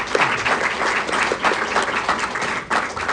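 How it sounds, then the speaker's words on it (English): An audience at a live digital industry event applauds a panel, a full, sustained burst of many hands clapping close by, steady throughout with a brief dip near the end. "let's give a round of applause for the lovely panel here."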